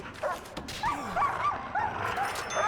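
A dog in the video game Prison Architect barks and yips in quick, high excited bursts with some whimpering, fairly close over a steady background hum.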